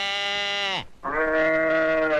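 A man imitates a cow's moo with his voice in a comedy scene, making two drawn-out, tonal calls that are loud and close, split by a brief pause.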